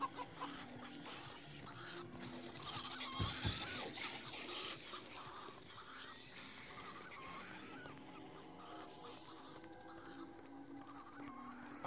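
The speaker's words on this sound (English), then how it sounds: "Come on, chickens." Chickens cluck in the audio game Papa Sangre, soft clucks and squawks scattered over a low dark ambience, faint and somewhat distant, with no talking.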